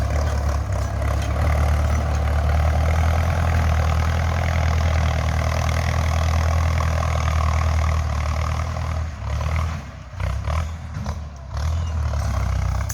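A tractor engine runs loud and close while ploughing with a six-disc plough, a steady low rumbling drone throughout with brief dips and fluctuations near the end.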